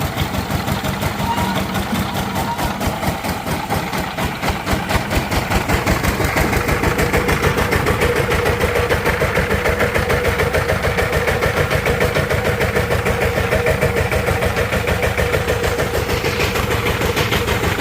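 Diesel engine on a village power tiller starting up and running at a fast, loud, even chugging pulse that holds steady throughout.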